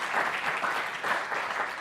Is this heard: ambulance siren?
no